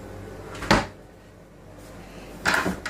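A dish cupboard in a roomy boat kitchen bangs shut twice, a sharp near wooden knock followed by a second clack a couple of seconds later, with faint background hum between.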